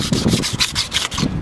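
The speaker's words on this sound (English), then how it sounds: "I'm gonna file it down." A PVC airsoft amplifier is rubbed with 220 grit sandpaper in quick, close back-and-forth scratchy strokes, about seven rasping passes in under two seconds.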